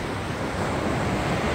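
Sea waves wash onto a beach in a loud, continuous roar mixed with gusty wind buffeting the microphone, with no talking.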